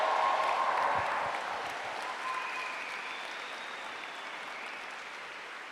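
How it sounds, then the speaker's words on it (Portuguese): Audience applause at a Catholic church healing service, a dense crowd of clapping that is strongest at first and then settles into a softer, sustained patter with faint cheering. "Pode aplaudir."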